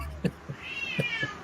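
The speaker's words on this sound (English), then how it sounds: "So, Tammy, here we have cats versus dogs." A cat meows in a cats-versus-dogs standoff, giving a few short, fairly close calls spread across a moment, with a faint higher whining tone in between.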